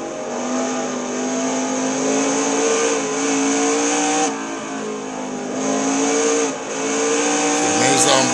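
A Le Mans prototype race car in a racing game at the 24 hours of Le Mans circuit. Its loud engine holds a high, steady drone that dips and rises with each gear change, with a brief tire squeal at the end.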